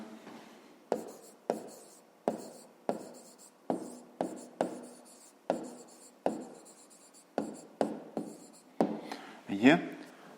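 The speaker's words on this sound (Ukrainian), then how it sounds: "Пишемо відповідь." Handwriting on paper while solving a fifth-grade math exercise, a close, regular series of short scratchy strokes and taps, roughly one or two per second, with a brief louder rustle near the end.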